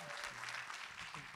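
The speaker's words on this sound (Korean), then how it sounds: "큰 박수 부탁드립니다." Audience applause at a school graduation ceremony in Busan, a dense, steady wash of many hands clapping together in an indoor hall.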